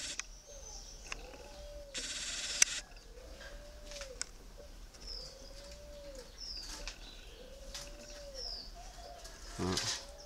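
Doves coo in soft, repeated rising-falling calls at a steady rhythm while a male dove incubates eggs, with occasional brief wing flaps or rustles and a louder burst near the end.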